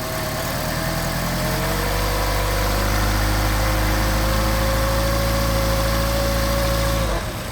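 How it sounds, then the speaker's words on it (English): Mercedes 190SL engine with Solex carburetors revved and held at raised speed to warm up, a loud, steady, close drone with a faint whine that drops away abruptly near the end. "we're going to rev it up to get it warmed up quickly"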